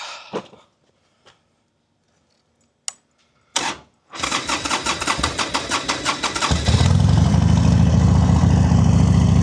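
A 2005 Harley Davidson Sportster 1200 starts in the cold: a few clicks and brief cranking attempts, then the starter churns, the V-twin catches and settles into a loud, close, rumbling idle.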